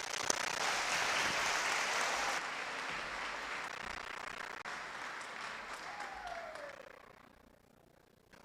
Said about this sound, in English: let's just give one more big round of applause to our graduating class